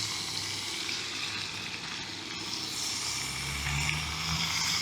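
Steady, broadband sizzling of steak frying in butter in a pan on a Primus Omnilite Ti camping stove, a continuous crackle with a low rumble underneath, close and fairly quiet.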